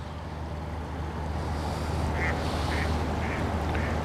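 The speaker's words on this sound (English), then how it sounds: "Ducks are beautiful animals." Ducks paddling on water quack several times in short, repeated calls over a steady low background hum, fairly near and clear.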